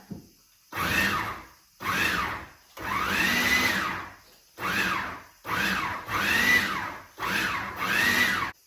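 An electric food chopper pulses chile and vegetables for a Mexican chicken dinner, giving seven close, loud whirring bursts separated by short pauses, with no talking.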